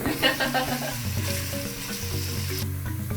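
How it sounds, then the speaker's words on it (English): Onion sautéing in a pan while a Kenyan meal is being cooked, giving a steady, close sizzle and frying crackle that runs through the whole stretch, with occasional stirring and a constant low background hum. "So what I'm doing is the lazy work and sauteing the onion."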